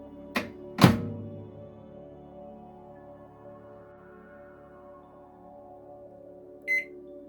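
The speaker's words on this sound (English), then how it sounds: "the microwave seems to be responding to commands" A Sharp R360S microwave oven under repair answers its controls with two sharp clunks, then a steady low hum of running, and a short beep near the end, close and alone.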